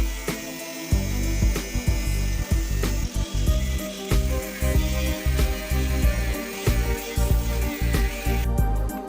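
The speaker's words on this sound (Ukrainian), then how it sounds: "А тепер болгаркою точно по контуру відрізаємо." An angle grinder whines loudly and steadily as it cuts metal, its pitch wavering with bursts of grinding close by.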